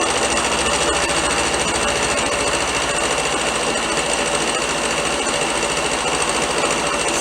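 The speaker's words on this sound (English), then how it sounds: "Milling some rail. I'm gonna try fine milling just to see what it does." A milling machine takes a slight fine-milling cut along a steel rail, producing a steady, dense, high-pitched whir and rapid chattering hum that stays constant and loud throughout, with no voices.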